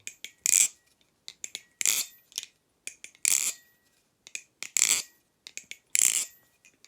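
Baliplus 7075 Kraken clone balisong knife with floating washers being flipped, sharp close metallic clacks in rapid rhythmic bursts with brief light rings, each burst followed by short pauses.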